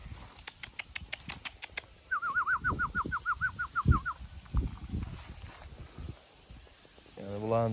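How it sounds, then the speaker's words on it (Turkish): Local domestic pigeons call with soft, rapid, throaty cooing trills and some wing flutters, close by, among other faint bird noises. "Bu da benim yerli kuşlarım."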